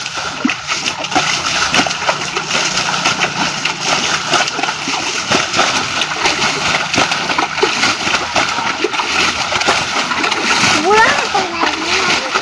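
Water splashing and sloshing steadily as people bail it out by hand, with children's and adults' voices talking throughout.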